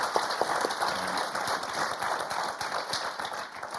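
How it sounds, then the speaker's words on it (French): A French TV game show studio audience applauds, a steady rain-like patter of many hands clapping at moderate volume throughout, easing slightly toward the end. "Et on va applaudir Mathis et Paul très très fort."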